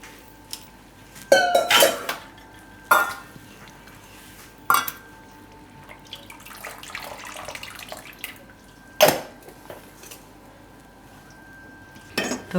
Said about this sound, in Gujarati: એટલે થોડુંક આ રીતે ઠંડુ પાણી નાખી દેવાનું.